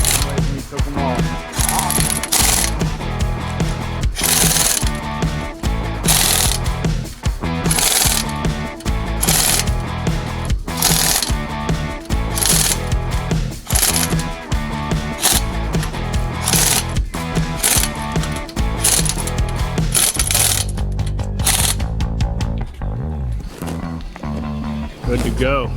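Lug nuts being tightened in a crisscross pattern on a 1965 Ford Galaxie wheel with Explorer rims, a loud, busy run of rapid ratcheting and mechanical clatter in repeated bursts that continues throughout.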